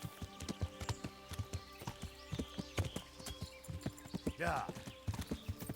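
Horse hooves clip-clop in a steady walking rhythm in the Kingdom Come: Deliverance video game, close and distinct, with a brief whinny midway and a voice briefly speaking.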